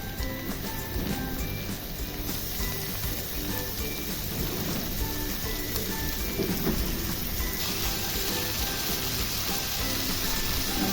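Prawns fry in oil in a pan, giving a loud, dense, unbroken crackling sizzle that holds steady from start to finish with no talking.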